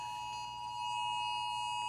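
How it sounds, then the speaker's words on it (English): A tsunami emergency alert tone sounds as a steady, continuous electronic tone held at an even pitch with a faint higher partial, loud and unbroken through the short span. "You may be hearing some of the audio from the emergency alerts right now."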